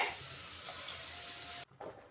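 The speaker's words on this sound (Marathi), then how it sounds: "थोडंसं मी पाणी टाकून घेते" A steady rushing stream of water pours into a pot of cooking Bhogi vegetable curry for over a second, then cuts off, leaving a brief splash.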